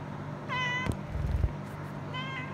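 A pet cat meows twice at home, short harmonic calls near the start and again at the end, with a thump and rustling between them over a steady low hum; no one speaks.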